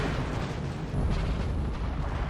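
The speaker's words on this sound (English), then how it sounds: "artillery really starting to strike up this hill" Artillery in the Napoleon Total War video game rumbles as a continuous low, booming barrage, thick and distant-sounding, with rolling impacts blending into one roar and no voices.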